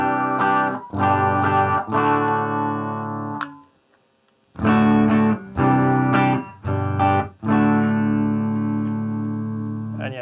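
A clean electric guitar tone runs through a Zander Circuitry pedal. Sustained chords ring out in separate phrases, with short pauses and one longer silence between them.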